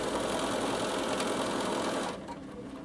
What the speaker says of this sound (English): I can start sewing, and my machine will now sew that once.